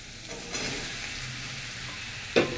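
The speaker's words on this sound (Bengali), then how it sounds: "দেখে নাও দিয়ে দিচ্ছি আমি চাল কুমড়ো ঝিরিঝিরি করে কেটে নিয়েছিলাম, তো আমি দিয়ে দিলাম চাল কুমড়ো।" Finely shredded ash gourd stir-fries in a pan with a steady, close sizzle and a few soft stirring scrapes, ending in a brief louder clatter.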